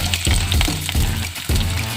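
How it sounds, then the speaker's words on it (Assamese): Chopped onions fry in refined oil, a loud close crackling sizzle broken by brief bursts of stirring or scraping in the pan. "এতিয়া মই কাটি থোৱা পিঁয়াজকেইডোখৰ ৰিফাইন তেল দি অকণমান ভাজি ল'ম"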